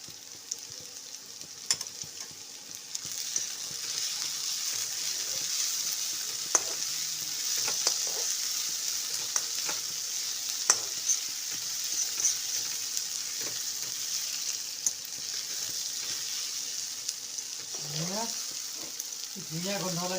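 Onions sizzle steadily in a hot pan over a continuous frying hiss, with occasional scraping stirs and clinks, and a brief voice near the end.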